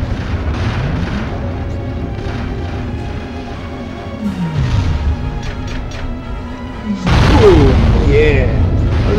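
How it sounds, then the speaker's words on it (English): Explosions from the game Destroy All Humans! rumble and boom over a busy mix of effects, with a louder, crashing blast near the end. "I was expecting a bigger explosion."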